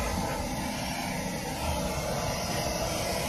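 A small handheld vacuum cleaner runs continuously up close, a steady, loud motor drone with a breathy rushing tone.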